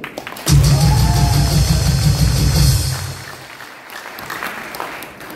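A crowd applauds for the Marine Corps at a political gathering. The loud, dense clapping carries a heavy low rumble, swells abruptly, holds for a few seconds, then tapers off into quieter scattered sound.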